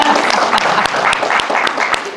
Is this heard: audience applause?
yes